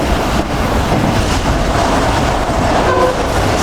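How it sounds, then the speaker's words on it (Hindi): The Pak Business Express passenger train running at speed between Karachi and Lahore, a loud, continuous roar of wheels on rails with steady rumble and rattle throughout, no voices. "काफ़ी अच्छी स्पीड में इस वक्त हमारी ट्रेन"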